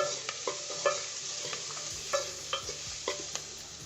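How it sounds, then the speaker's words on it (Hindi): Vegetables stir-fry on high heat for an egg idli dish, a steady sizzle punctuated by regular sharp clinks and scrapes of a spatula against the pan, close and alone. "ये देखिए मेरे वेजिटेबल सॉटर हो गए हैं। ये मेरा तेज सेक पे ही हो रहा है"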